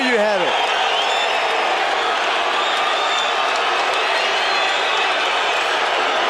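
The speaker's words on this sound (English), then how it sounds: "a lot of people are clapping here. It's kind of hard to say to hear the boos." A boxing arena crowd in Tijuana, Mexico roars continuously after a fight decision, dense clapping and cheering mixed with boos, loud and unbroken, with a commentator talking over it.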